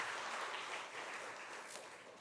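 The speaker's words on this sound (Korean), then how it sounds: "우리 뜨거운 환영의 박수 부탁드립니다." A church congregation claps in welcome for newcomers at a Sunday service, a dense, even burst of applause that fades slightly over two seconds, with no voices over it.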